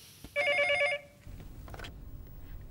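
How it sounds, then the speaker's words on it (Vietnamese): A telephone rings once in a short electronic trill, clear and fairly loud, then falls silent into quiet room noise with a few faint rustles. "Nghe máy đi."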